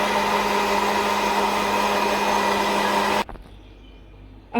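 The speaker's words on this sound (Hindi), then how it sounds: "अब हम 2 मिनट्स के लिए इन दोनों चीज़ों को बहुत अच्छे से ब्लेंड करेंगे।" An electric blender whirs steadily and loudly, mixing sponge cake batter with cooking oil, then cuts off abruptly about three seconds in, leaving a quiet room.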